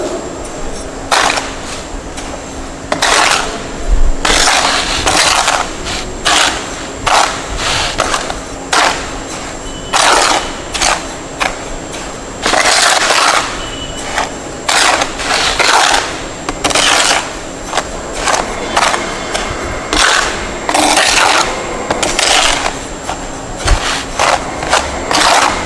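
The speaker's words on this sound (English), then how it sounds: "I am going to dry mix the cement and fine aggregate sample." Cement and fine aggregate being dry mixed by hand for a mortar sample, a steady series of gritty scraping strokes in a repeating rhythm, close and fairly loud over a constant background hum.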